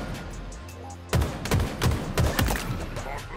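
Gunfire in the video game Halo Infinite cracks out in a rapid series of punchy shots after a brief lull, close and loud over game background noise.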